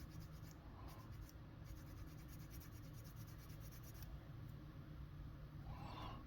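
600 grit sandpaper rubbed along the seam line of a model part: steady, fast, faint scratchy rubbing that runs without a break, close up and quiet, with no talking.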